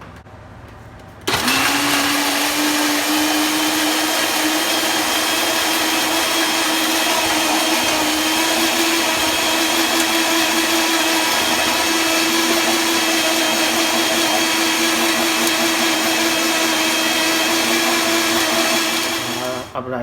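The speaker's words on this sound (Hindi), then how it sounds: "सब ऐड कर लेते हैं और उसका ब्लेंड कर लेते हैं।" An electric blender starts abruptly and grinds green coriander, dried pomegranate seeds, salt, cumin and black pepper with a loud, steady whirring drone that holds its pitch for the full twenty seconds, close up.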